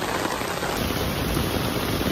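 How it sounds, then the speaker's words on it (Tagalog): Heavy rain pours down continuously, a dense loud hiss of water spread evenly throughout, close and steady with no voices. "Lakas ng ulan!"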